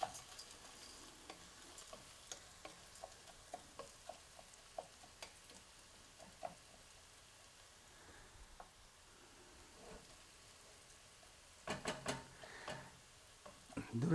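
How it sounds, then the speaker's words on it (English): Washed split peas frying in a pan for Persian khoresht gheymeh make a faint, quiet sizzle, broken by a regular series of soft ticking stirs and a busier clatter of utensil scrapes near the end. "fry the split pea a bit is just it will be firm"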